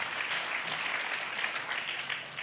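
Church congregation applauding at a New Year service, a steady wash of many hands clapping that sounds distant and soft, with no talk over it.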